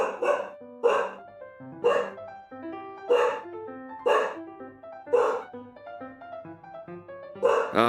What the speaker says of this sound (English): And my dog barking in the background.